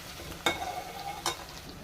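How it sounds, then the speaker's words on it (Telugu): Tamarind juice goes into a simmering Telangana-style fish curry with two quick splashy pours over a soft bubbling background, close and moderately loud, with no talking. "ఇప్పుడు ఇందులోకి చింతపండు పులుసును వేసుకుంటున్నాను"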